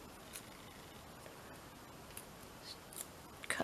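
Scissors snipping paper for a scrapbook dangle embellishment, very quiet and close, a few soft scattered snips with a slightly louder cluster at the end, no talking.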